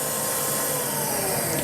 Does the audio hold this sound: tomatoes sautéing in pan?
no